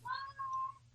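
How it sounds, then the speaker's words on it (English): A house cat lets out two short, high, drawn-out meows close by in an otherwise quiet room. "excuse my cat. He's probably going to talk a lot."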